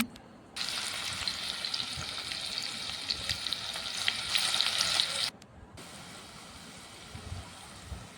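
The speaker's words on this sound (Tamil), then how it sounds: "தக்காளி வதங்குறதுக்காக கொஞ்சமாக உப்பு சேர்த்து வதக்கலாம்" Chopped tomatoes sauté with a little salt in a pan for a chickpea sundal biryani. A loud, bright sizzle starts abruptly, holds for about five seconds, then cuts down to a quieter background crackle.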